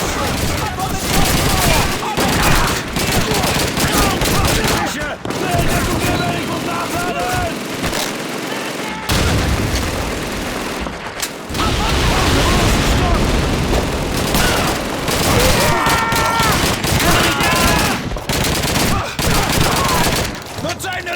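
Dense, loud battle noise from the video game Call of Duty 2 (2005): continuous overlapping gunfire and heavy blasts with barely a break, shouted voices mixed in throughout.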